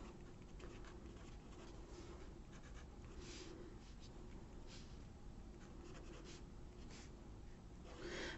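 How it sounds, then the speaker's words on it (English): A pen scratches quietly as notes are jotted down by hand, with soft, intermittent strokes in a quiet room. "So I'm jotting this down so we have it in writing."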